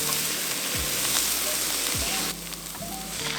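Onion sizzles steadily in melted butter in a pan, a continuous close frying hiss with a few low knocks of stirring and a slight drop in intensity partway through.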